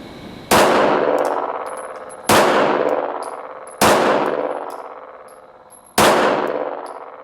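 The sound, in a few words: pistol shots fired in training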